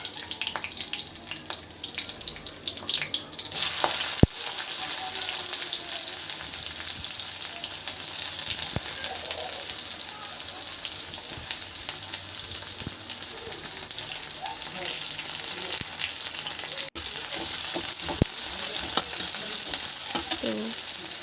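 Onions and curry leaves frying in a pan hiss and crackle loudly, the sizzle jumping up sharply a few seconds in and then staying constant, with scattered clinks and no talking.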